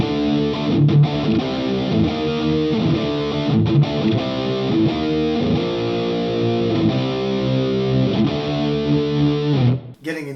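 Electric guitar through an ML Sound Lab Amped Humble amp plug-in set for distortion, playing loud sustained chords and riffs with long ringing sustain before cutting off abruptly at the end, no talking.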